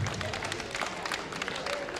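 Audience at an association anniversary evening applauding, a continuous, fairly soft patter of many hands clapping with crowd murmur mixed in.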